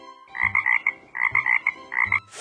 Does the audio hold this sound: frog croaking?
yes